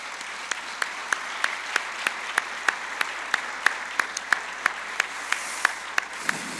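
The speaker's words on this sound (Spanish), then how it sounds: "Den un aplauso al Señor, ¿no?" A congregation at a church conference claps in applause, a crisp, evenly paced run of claps that sounds like one or a few pairs of hands close by, over a faint room hum and lasting several seconds.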